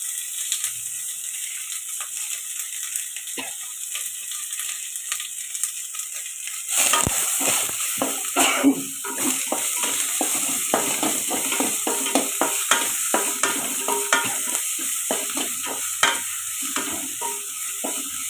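Onion and asafoetida sautéing in a pan. A quiet hiss gives way about midway to a loud, close sizzle with repeated stirring clicks and scrapes that carries on steadily to the end.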